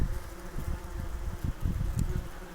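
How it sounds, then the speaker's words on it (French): Wasps buzz close by in an outdoor setting, a dense continuous droning hum with fluctuating loudness as the insects fly around near the listener, with no talking. "On veut tuer des guêpes, elles sont là."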